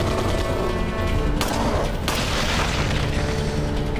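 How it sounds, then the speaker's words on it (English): Loud gunfire and heavy booms from the Resident Evil 4 Separate Ways game, a dense continuous barrage with sharper blasts breaking through partway. "wait until the gun stops shooting and run for it"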